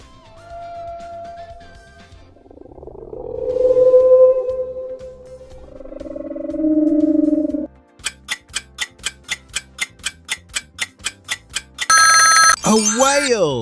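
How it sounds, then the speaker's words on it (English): A whale gives low, drawn-out moaning tones that swell and fade, then a steady ticking and a closing chime follow. "A whale."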